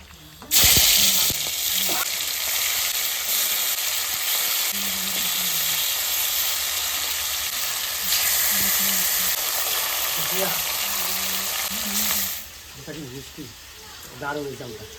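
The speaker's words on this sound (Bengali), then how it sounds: "এবার আমি মাছটা কড়াইতে সাজাই" Fish is laid into a kadai of hot oil with cumin and dried red chilli, bursting into a loud sizzle that runs steadily then drops away near the end, with voices talking over it.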